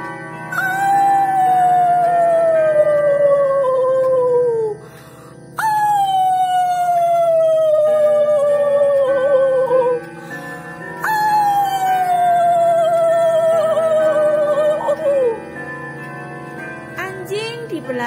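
Dog behind a house at night howling in three long, falling wails one after another, loud and close, with a shorter rising cry at the end.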